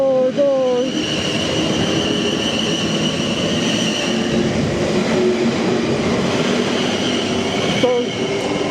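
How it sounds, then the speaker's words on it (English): Train departing Farncombe station, a loud, sustained rumble of rolling stock with high wheel squeals and tonal whines near the start and again near the end, passing close by with no talk over it. "there goes my train"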